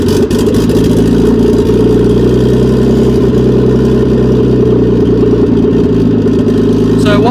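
A Nissan Datsun Bluebird 910 with an RB20DET engine idles loudly and close up, holding a steady, even rumble with no revving for the whole stretch.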